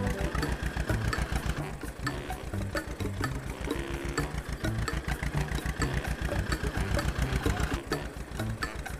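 Engine of a magical wooden tractor racing other tractors in a comedy cartoon, a steady loud mechanical drone with rhythmic pulsing running throughout, mixed with music-like tones.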